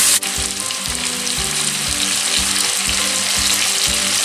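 Chicken pieces sizzle steadily in a pan over low heat while a spoon turns them every half second or so, giving a regular scraping rhythm over a loud, continuous close-up fry.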